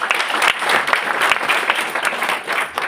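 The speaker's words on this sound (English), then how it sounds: "Let's give him a round of applause." Audience applause fills an awards ceremony hall at the 38th Kenya Home Expo, a dense, steady wash of many hands clapping at full strength for the whole stretch with no voices over it.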